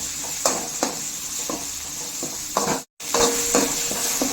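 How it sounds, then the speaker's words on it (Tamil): Tomato sautéing with curry leaves and turmeric in a pan, a steady close sizzle broken by repeated stirring scrapes of a spoon against the pan, with a momentary dropout midway and no talking. "நம்ம போட்ட தக்காளி நல்லா வதங்கிச்சு"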